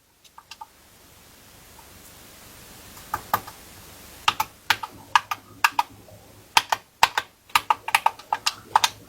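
Computer keyboard keys are pressed while controller buttons are mapped: a few isolated clicks at first, then a quiet pause, then a faster series of crisp, close keystrokes.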